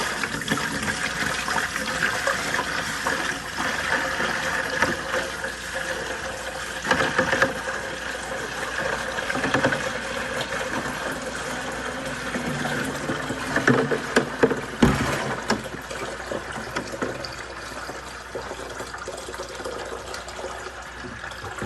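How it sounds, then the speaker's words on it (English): Water poured from a bucket into an aquarium quarantine tank makes a steady, fairly loud splashing gush that keeps rushing for about twenty seconds, with a few sharper sloshes partway through. "pour this first 5 gallons into the tank"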